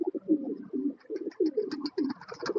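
A pair of fancy Blacklist Shartin pigeons, sitting on two eggs, give a steady run of soft, throaty coos in quick repeated pulses, close and alone, with faint chirps above.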